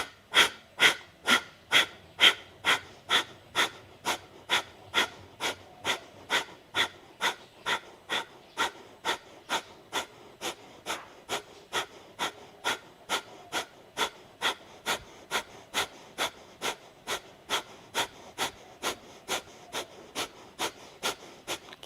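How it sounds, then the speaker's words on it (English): Steady rapid nasal exhalations during yoga breathwork, one forceful puff through both nostrils about every half second for over twenty seconds, close, even and rhythmic, with no talk. "Rapid exhalation of the breath through both nostrils."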